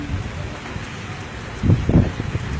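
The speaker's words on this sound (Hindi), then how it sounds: "बहुत मजे की बारिश हो रही है" Steady rain pattering on a surface, with a couple of louder low rumbles or thumps near the end.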